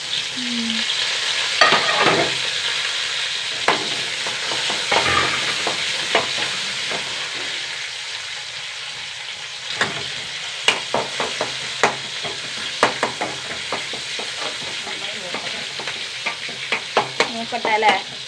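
Curry leaves with small shallots frying in oil in a pan, a steady sizzle punctuated by many sharp pops and spoon scrapes throughout, close and without talk.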